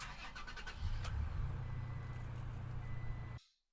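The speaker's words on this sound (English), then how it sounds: "you'll start your vehicle" A vehicle engine cranks and catches after a portable jump starter is connected, then runs as a steady close rumble for a few seconds before cutting off abruptly.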